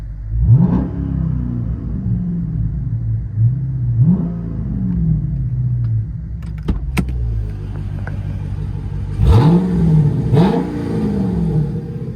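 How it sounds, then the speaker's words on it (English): Dodge Charger Scat Pack V8 engine revved while parked, with three separate throttle blips spread across the clip. Each rev rises quickly to a deep, loud roar and then falls back to a steady rumbling idle. The engine is heard alone, close up. "Give it a quick rev."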